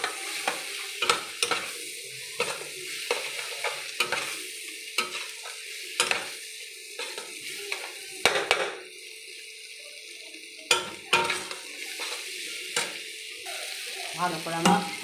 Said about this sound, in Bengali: ভালো করে আমার সব মশলা দিয়ে কষানো হয়ে গেল